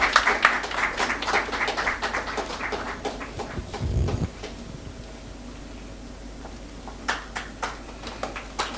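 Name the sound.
audience applause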